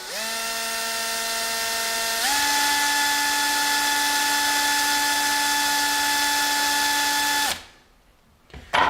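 A power drill whines steadily as it bores into a silver item, rising in pitch once, holding for several seconds, then cutting off abruptly.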